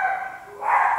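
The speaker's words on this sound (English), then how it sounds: "Sorry if you can hear my dog in the background." A dog barks and yips in the background, a short burst of faint, high-pitched barking with no talk over it.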